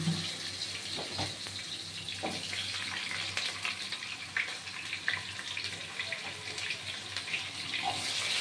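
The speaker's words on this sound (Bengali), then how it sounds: "দেখুন প্রথমে আমি ছাড়বো আলু।" Potato pieces are going into hot oil, which gives a soft, continuous sizzle and crackle with light splashing, along with a few scattered clinks and knocks. The sound stays fairly quiet throughout, and no one speaks.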